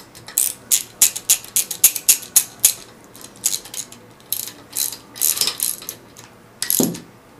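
A ratchet with a 5/8 socket tightens a bolt on a pump's volute, giving close, crisp bursts of clicking in short repeated strokes with brief pauses between them.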